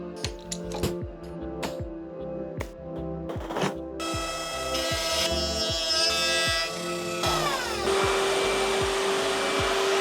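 A power tool cuts grooves in wood for an LED strip. Rhythmic clicks and knocks come first, then a steady close, loud whine with a shifting pitch as the cut goes on.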